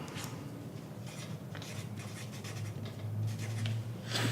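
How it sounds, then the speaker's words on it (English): A pen scratches across scrap paper while notes are being written, giving close, soft, irregular strokes and scribbling rubs that continue steadily without talk. "I'll get a bit of scrap paper so we can just write some notes"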